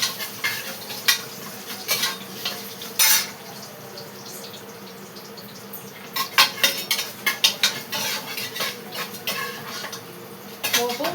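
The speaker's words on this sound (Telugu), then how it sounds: "పోపు వేగిపోతుంది" Tempering spices sputtering in hot oil in a pan, a continuous crackling sizzle broken by bursts of metal spoon scraping and clinking against the pan, close up, no talking.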